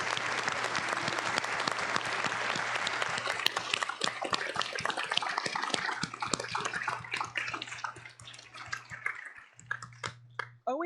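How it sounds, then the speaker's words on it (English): Sustained applause from the assembled audience at an OAD community organisation event honouring frontline staff, dense clapping across the room with a steady low hum underneath, thinning and breaking into scattered claps near the end. "can we have a round of applause for those on the front line?"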